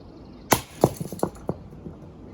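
An off-brand Nintendo Switch Pro-style controller dropped onto the ground, hitting with a sharp crack followed by a quick scatter of smaller clattering bounces and plastic pieces, moderately close with faint background noise.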